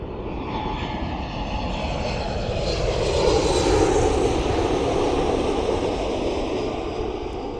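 A Flair Airlines Boeing 737 MAX 8 departs Toronto Pearson, its engines building into a broad, loud roar that swells near the middle and holds steady as it passes, with no voices.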